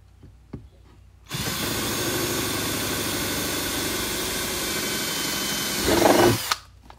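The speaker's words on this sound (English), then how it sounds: "we're going to drill a hole" Power drill boring a hole through a plastic prop blade for a Halloween chainsaw prop, one steady loud whine lasting about five seconds that strains and rises briefly near the end before cutting off.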